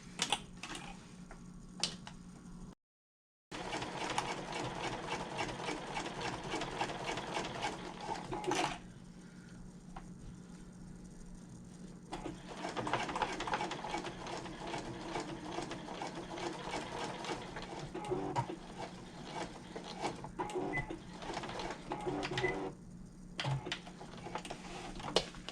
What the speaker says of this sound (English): now we're going to sew this edge at 3/8 of an inch to close up the other side of the zipper